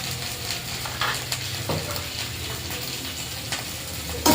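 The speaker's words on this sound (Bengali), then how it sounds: "দিয়ে মশলাটা ভালো করে কষে নেব" Chili, cumin and coriander powder masala sautéing in a pan for a kochu lati and jhinga posto dish, a steady soft sizzle with scraping stir strokes and occasional utensil clinks, close and alone.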